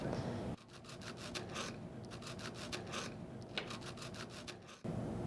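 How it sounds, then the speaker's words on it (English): A knife gently sawing through a decorated cookie, heard close as a soft, rhythmic rasping scrape in short back-and-forth strokes, with a brief quiet pause at the start and end. "I'm just sawing it very, very gently"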